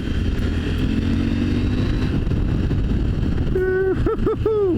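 A CFMOTO 800 MTX motorcycle on a road ride gives a loud, steady engine drone under constant wind roar, with a brief wavering tone near the end.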